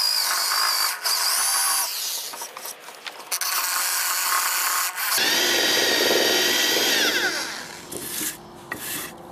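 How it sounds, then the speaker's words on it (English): A hand drill fitted with a Forstner bit bores through wood, giving a loud, steady grinding and rubbing whine that persists for the whole stretch, with brief pauses and shifts in pitch as the bit cuts deeper. "Okay, I'm gonna drill it with a hand drill."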